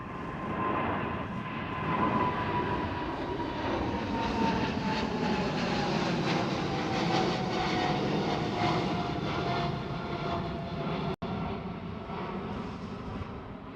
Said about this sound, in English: KLM 777 departs.